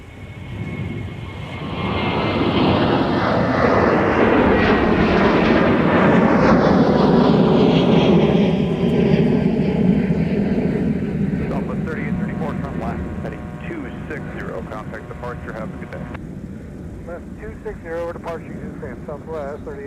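A Delta airliner takes off from runway 30 left at Minneapolis–St. Paul airport, its engine roar building loud, peaking, then receding into the distance while radio chatter comes through.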